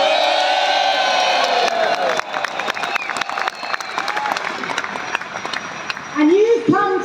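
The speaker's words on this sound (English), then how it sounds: "let's give all of them a loud cheer" A large crowd at a farmers' protest in Whitehall cheers and applauds, dense clapping and whoops filling the air, a loud shout rising near the end over the ongoing roar.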